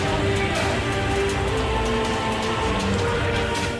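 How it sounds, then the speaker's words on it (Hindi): Heavy rain pours down during Cyclone Tauktae's storm, a dense, continuous roar of rainfall with wind that stays loud and steady throughout. "रात भर तूफानी हवाओं के साथ मूसलाधार बारिश हुई"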